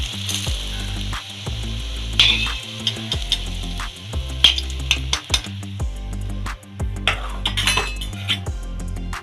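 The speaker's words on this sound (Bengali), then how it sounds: "বেগুনগুলোকে হালকা করে ভেজে তুলে নেব।" Brinjal slices fry in hot oil with a steady close sizzle and spatter, punctuated by light clinks of a utensil against the pan and a few sharper crackles.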